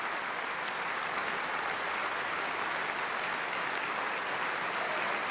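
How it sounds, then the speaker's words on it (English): A theatre audience gives thunderous, sustained applause for opera singers in a 1980 television broadcast of Lehár's The Merry Widow, a dense, even roar of clapping that lasts throughout without any voices. "Tremendous roar of applause for Della Jones as Valencienne and Graham Clark as Camille de Rosillon"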